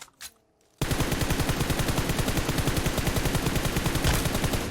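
Sustained rapid automatic gunfire in a shooter game, loud and continuous for several seconds after a brief quieter opening, with a steady rattling rhythm and no talk.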